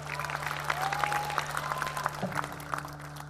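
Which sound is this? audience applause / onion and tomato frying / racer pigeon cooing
audience applause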